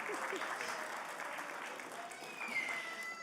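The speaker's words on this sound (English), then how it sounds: "you can applaud for that." An audience applauds at a justice event, steady sustained clapping from a crowd that fills the room, with a voice faintly heard over it.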